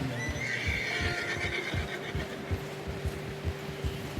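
A horse whinnies loudly near the start in the video game Red Dead, over steady clip-clopping hooves and a low rumbling background.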